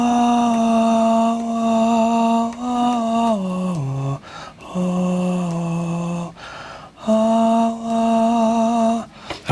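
A sustained melodic line with clear harmonic tones, sliding down in pitch at points, plays alone in three phrases separated by short gaps, with no voices. The tune is built from a note-letter cipher and is meant as a string hook.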